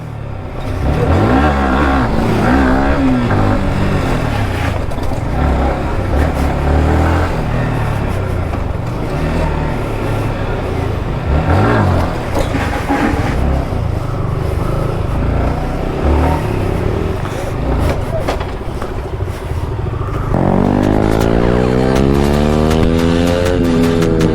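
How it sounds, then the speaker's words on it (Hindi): Several motorcycles arrive on a road in India, their engines loud and close in a continuous overlapping roar with revving that rises and shifts throughout. "भाई कितनी बाइकें आ गई"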